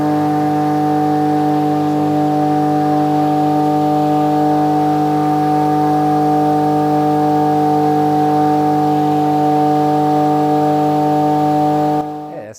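A Keppe motor of about half a horsepower, rated at 90% efficiency, runs with a loud, steady tonal hum and stacked harmonic whine, unchanging for about twelve seconds before cutting off.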